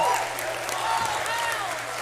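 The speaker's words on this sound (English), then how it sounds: "They have got the crowd up and cheering." A crowd at a high school basketball game applauds and cheers at moderate volume, a steady wash of clapping and voices in a gym.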